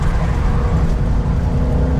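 A recent-generation Ford Mustang GT engine revs loudly and close by, a dense, deep roar that holds steady for about two seconds.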